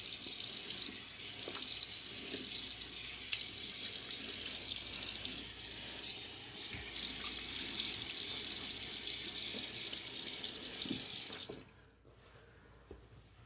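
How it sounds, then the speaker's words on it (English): A bathroom faucet runs in a steady, loud hiss while cold water is splashed on a freshly shaved face, the flow holding constant for about eleven seconds before the tap shuts off, leaving a few faint drips. "I'm gonna rinse the face off with cold water"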